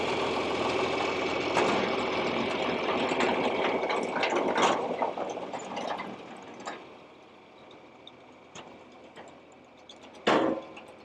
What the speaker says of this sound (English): when the Stackliner is working, it is a really awesome machine